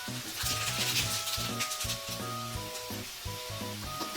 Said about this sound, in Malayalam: അപ്പം ഞാൻ കടുക് ചേർത്ത് കൊടുക്കും